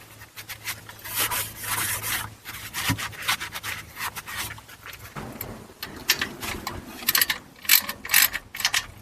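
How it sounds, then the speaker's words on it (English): A torque wrench tightens the oil drain plug on a Chevy LT4 engine under a Camaro ZL1 or Corvette Z06, with close scraping, ratcheting clicks in irregular bursts and no talking. "Then you're going to torque this to 18 foot-pounds."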